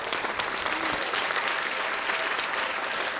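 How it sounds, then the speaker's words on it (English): An audience at a Janmashtami cultural program claps loudly for the children's performance, a dense, continuous round of applause from many hands, with faint voices mixed in. "The children really require a loud applause."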